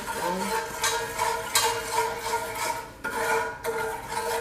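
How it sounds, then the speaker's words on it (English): A spoon stirs and scrapes Jamaican-style curry chicken in a pot, a quiet rhythmic series of scraping strokes with light clinks against the metal, close up and without talk. "where is my spoon? Stir that up."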